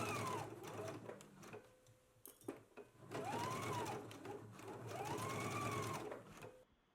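Sewing machine basting pinned bodice pieces to a waistband, running in steady stitching bursts with a couple of short pauses, close and clear, with no talk.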